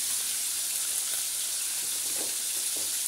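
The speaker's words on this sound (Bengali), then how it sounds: "আসলে মাছ ধীরে ধীরে ভাজতে হয়" Silver carp pieces frying slowly in oil in a pan, a soft, even sizzle with a few faint clinks, quiet and continuous, with no talk.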